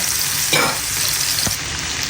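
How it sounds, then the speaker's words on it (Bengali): Fenugreek greens and shrimp fry in a pan with a dense, continuous sizzle, nearby and loud, broken by a couple of brief scraping stirs of a spatula; no one talks. "এই জন্যই চিংড়ি মাছ দিয়ে ভাজছি"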